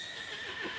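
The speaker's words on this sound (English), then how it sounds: "Do you hear it? The horses." A brief horse whinny in a video game, high and wavering, heard on its own at moderate volume.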